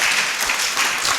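A church congregation claps together for the glory of God, a full and loud continuous round of applause with no voices over it.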